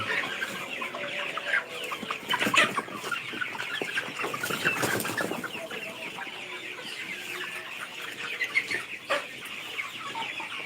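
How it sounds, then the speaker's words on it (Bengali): A flock of 59-day-old CPF Three Tiger chickens cluck and squawk steadily at close range, chattering with occasional sharper calls and faint background noise. "এই মুরগিটা হচ্ছে সিপিএফ থ্রি টাইগার মুরগি"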